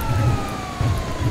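A police car siren in the video game GTA V, wailing with a steady rising tone over low engine rumble during a chase, moderately loud.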